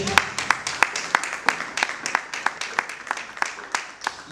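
An audience claps at a steady, even rhythm, the sharp claps cutting through a murmuring room as people keep applauding together.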